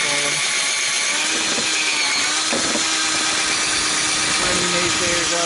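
A power drill with a 3/4 inch bit bores into a car's rear bumper foam, giving a steady, loud whirring grind that runs continuously throughout.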